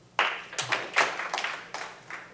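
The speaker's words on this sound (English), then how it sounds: "Clap if you've ever stopped speaking with someone over politics." A small workshop group claps in scattered, uneven bursts, a few distinct hand claps that swell briefly and then taper off, close and fairly quiet.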